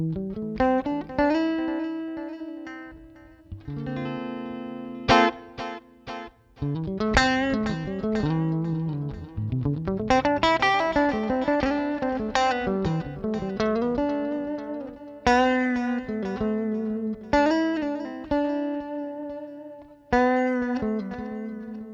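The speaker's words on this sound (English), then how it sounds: "So this is just a delay and you get some free reverb." Electric guitar notes and chords ringing out with echoing repeats and a wash of reverb tail, played steadily with no talking.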